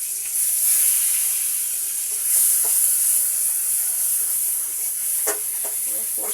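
Onion, garlic, ginger and tomato paste fry in oil with panch phoron, a loud steady sizzle and hiss up close, with a few clinks and scrapes of stirring.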